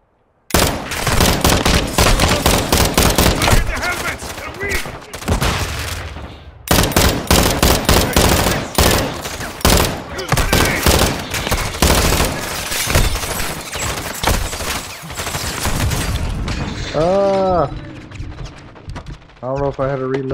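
Dense, rapid gunfire from Modern Warfare 2's Cartel Protection mission, loud automatic bursts almost nonstop with brief pauses and a few distinct single shots near the end, with speech partly in the mix.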